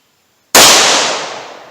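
.38 Special HTP round fired from a 2-inch barrel revolver: one sharp, very loud gunshot crack after brief silence, followed by a ringing outdoor decay.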